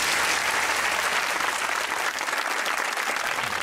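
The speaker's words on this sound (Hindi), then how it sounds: "तालियां होनी चाहिए इन दोनों के लिए।" A studio audience at a Pakistani TV comedy talk show applauds loudly and continuously, a dense steady wash of many hands clapping that lasts the whole moment with no break.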